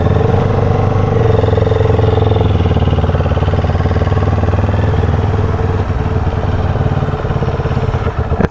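A Yamaha MT-09 three-cylinder motorcycle engine idles and warms up close by, producing a loud, steady, throbbing drone with slight variations in pitch and no revving.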